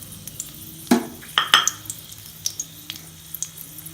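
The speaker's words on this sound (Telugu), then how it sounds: "నూనె వేడెక్కిన తర్వాత ఎండుమిర్చి తరిగి వేసుకోవాలి." Chopped dried red chillies dropped into hot oil in a pan, with a few loud crackling bursts and scattered sizzling pops and clinks, close by.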